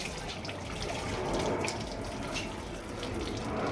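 Antifreeze running out of a disconnected bottom radiator hose on a Ford Figo into a container, a steady faint trickling, splashing flow without talk.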